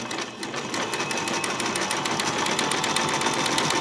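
A sewing machine runs a regular-length straight stitch, with a steady, close, rapid mechanical chatter that carries evenly throughout.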